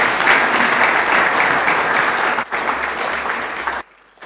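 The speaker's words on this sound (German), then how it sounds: "der Herr Wallstein hat sich jetzt einen Applaus verdient" Audience at a German civic discussion evening applauds a guest, a loud, steady clapping crowd that dips briefly midway and cuts off abruptly near the end.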